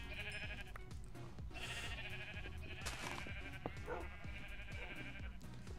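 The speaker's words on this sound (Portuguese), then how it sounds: "Deixa eu isolar essas ovelhas aqui." Sheep bleating in Minecraft, several overlapping wavering calls repeating over a steady bed of game sound, fairly loud and close, with no talk over them.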